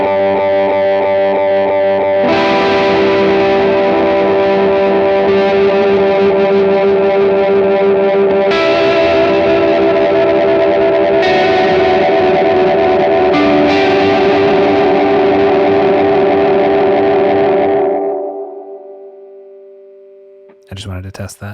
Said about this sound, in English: Supposedly this can self-oscillate into, like weird feedback.